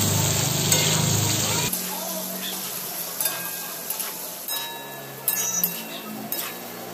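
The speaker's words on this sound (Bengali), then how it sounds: "পেঁয়াজগুলো আমি ভেজে নেব খুব বেশি ভাজবো না হালকা করে ভাজবো" Onions lightly frying in a pan for restaurant-style chilli chicken, a steady soft sizzle with occasional stirring clinks and scrapes, close by, no talk over it.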